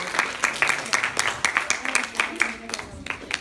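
A classroom audience of secondary school students claps for classmates who have just presented, the scattered claps coming in an uneven rhythm at moderate level, with faint talk underneath.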